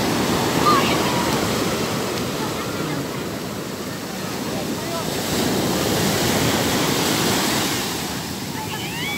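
Ocean surf rolls and crashes steadily onto a beach in San Felipe, Zambales, at high tide, a loud continuous wash of breaking waves with some wind buffeting the microphone.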